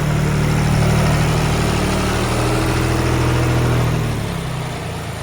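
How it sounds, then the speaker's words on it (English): A heavy tractor engine runs steadily with a low, droning hum, close by in a farmyard, easing off slightly toward the end. "cleaning the yard up with his very high-tech tractor"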